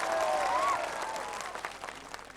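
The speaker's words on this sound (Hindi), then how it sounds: "अगर अब भरोसा हो गया हो, यकीन हो गया हो, तो एक जोरदार तालियां होनी चाहिए।" A crowd at a poetry gathering claps steadily and loudly, the applause thinning slightly toward the end, with a brief whistle-like tone at the start.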